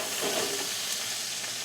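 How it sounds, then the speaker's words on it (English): Chicken sizzles in a pan with browned onions for a budget chicken, rice and beans dinner, a steady close crackling hiss throughout with no voices. "And the chicken, right now, I think has been sizzling long enough"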